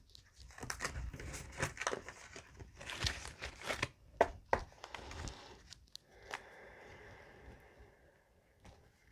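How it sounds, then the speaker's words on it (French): Tarot cards, a non-original deck, being shuffled by hand: a run of soft crinkling riffles and papery slaps, close and fairly quiet, with a few sharper flicks and a brief quieter stretch near the end. "Alors je mélange les cartes."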